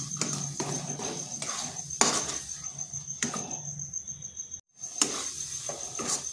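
A spoon scrapes and clinks rhythmically against a pan while amla candy mixture is stirred, with repeated close strokes over a steady high whine.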